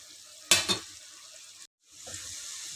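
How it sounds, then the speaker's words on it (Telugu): Beetroot frying in a pan, a soft sizzle with a sharp burst of stirring clatter early on, a brief silent gap, then the low sizzle resumes. "మంచిగా బీట్రూట్ అయితే మంచిగా ఫ్రై అయ్యింది"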